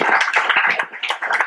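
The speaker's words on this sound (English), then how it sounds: "Give a big applause for Don." A small group at a men's club summer picnic claps for a committee chair, a brief burst of close, uneven hand claps that rises and dips several times within a second and a half.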